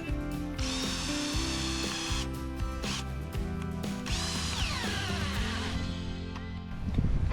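A drill drives 8-inch lag bolts into logs to anchor a tractor bridge, with repeated loud whirring bursts, pauses and strained slowing as the bolt bites, close and without talk.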